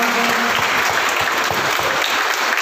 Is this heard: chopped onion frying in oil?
no